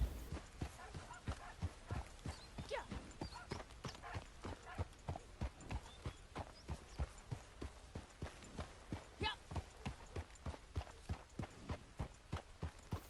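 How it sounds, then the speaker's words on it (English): Hooves of a horse in Red Dead Redemption 2 clip-clop in a steady, even trot going down hills, close and regular throughout with no talking over them. "we started off with a little slow collected trot, just to go down these hills"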